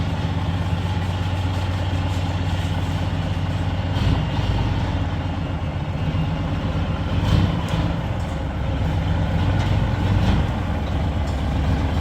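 A backhoe excavator heading off to work rumbles steadily at close range with a deep, continuous diesel drone, the engine note holding fairly constant with slight swells, no voices.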